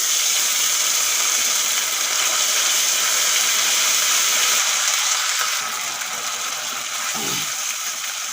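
Green chili and ginger paste sizzling in hot oil over cumin tempering with turmeric, a steady broadband hiss that runs loud throughout and softens slightly in the final seconds, with no voices.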